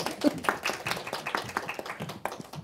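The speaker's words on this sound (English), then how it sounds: "Did we clap? Did we already clap?" Scattered clapping from a small workshop audience on advocacy, a loose patter of hand claps that stays moderate and fairly close, with no voices over it.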